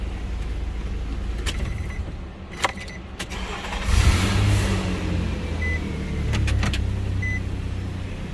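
A 2005 Nissan Xterra with the 4.0 engine, recently repaired for a P0340 camshaft sensor fault, idles steadily up close, with a few sharp clicks and a brief swell as the engine revs slightly.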